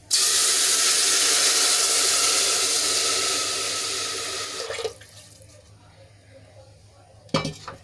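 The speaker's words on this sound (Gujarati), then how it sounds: "અહીંયા હું છ કપ પાણી એડ કરું છું" Water gushes steadily into a cooking pot for khichdi for several seconds, then stops, leaving a quiet pause before a sharp metallic clink.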